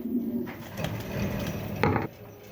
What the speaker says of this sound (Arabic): ذكر تاكسون شاب اول شغل من المستويات الممتازة